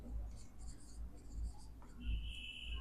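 Marker or chalk writing on a board while solving a polynomial maths problem, soft scratchy strokes in short bursts, close, with a quiet voice under a faint low hum.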